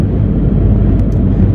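Steady, loud low road and tyre rumble fills the cabin of a moving Ford Transit Connect van with a metal bulkhead, continuous and even throughout with no talking.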